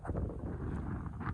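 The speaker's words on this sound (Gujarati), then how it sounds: "પવન તો ફૂલ આવે છે." Strong wind gusts outdoors in a village field before a rainstorm, a steady roaring rush buffeting the microphone, fairly faint overall with no speech.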